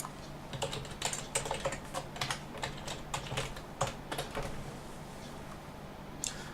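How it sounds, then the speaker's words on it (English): A username and password typed on a computer keyboard during a Siduction LXDE login: a quick, steady run of quiet, close keystroke clicks lasting several seconds, heard alone without voices. "Now I need to type in our username and password."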